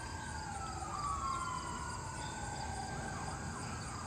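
A siren wails in the distance, its tone rising and falling over a steady outdoor background hum, faint but continuous throughout.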